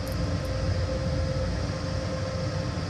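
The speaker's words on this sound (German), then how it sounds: "Und setze mich so ganz langsam mit dem Zug in Bewegung, dass wir die Wagen ankuppeln können." In Train Sim World 4 on the Ruhr-Sieg Nord route, a BR 185 locomotive creeps off slowly to couple onto wagons, giving a steady low rumble and a constant electric whine with no talk.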